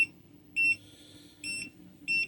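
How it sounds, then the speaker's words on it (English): A Seesii 16-line horizontal and vertical dual-beam laser level gives three short, high electronic beeps at an even pace when held off level, close and fairly quiet with no talk. "Now it's beeping because I'm having trouble holding it."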